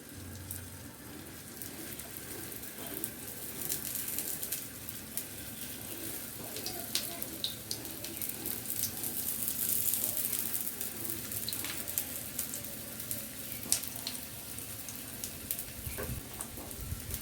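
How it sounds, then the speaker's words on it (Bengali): Litti dropped into hot oil in a pan, frying with a continuous crackling sizzle that holds steady and close, with scattered pops throughout. "তেল গরম হয়ে গেছে, এবার লিট্টিগুলোকে দিয়ে দেবো।"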